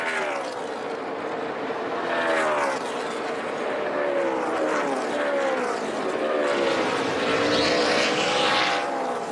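NASCAR Nationwide race cars at Atlanta rolling down pit lane, a steady loud engine roar with rising and falling pitch sweeps as cars pass close by, continuous throughout with no gaps.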